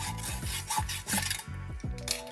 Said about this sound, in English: and if you just saw that off